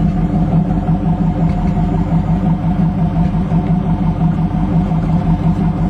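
A V8 car engine idles with a low, steady exhaust rumble, fairly quiet and even throughout, with no revving.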